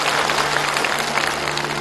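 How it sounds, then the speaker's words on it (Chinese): A studio audience at a Chinese family-reunion TV show applauds warmly, a steady, dense wash of clapping that holds at even loudness throughout, with no voices over it. "我们热烈的掌声欢送这一家走向他们的幸福之路"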